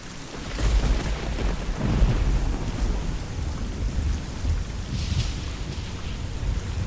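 Steady rainfall with low rumbling thunder rolling underneath, continuous and enveloping, with no voices, in the video game Fallout 3.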